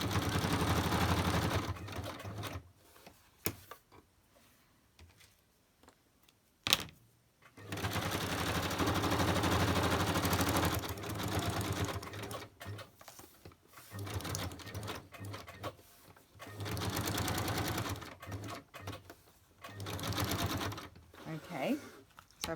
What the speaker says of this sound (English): Okay, so I'm going to stitch around my tag right now.